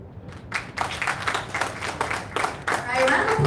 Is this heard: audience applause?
yes